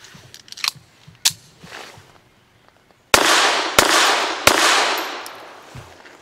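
A Llama Micromax .380 1911 pistol fires 95 grain Lawman truncated jacket rounds, with a few sharp, loud close-range cracks spaced about a second apart, each followed by a brief ringing decay, and no talk.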